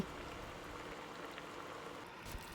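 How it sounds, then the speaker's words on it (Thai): Beef stir-cooking and bubbling in coconut milk for a Thai red curry with green banana, a steady close sizzling simmer throughout with no voices. "เราก็จะผัดเนื้อกับกะทิก่อนจะช่วยให้เนื้อเขานุ่มค่ะ ผัดสักประมาณ 5 นาทีค่ะ ให้เขาเดือด5นาที"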